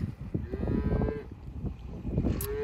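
Cows and calves on a farm moo repeatedly in the rain, several overlapping calls close by, some deep and drawn out and others higher and shorter, over a steady background patter.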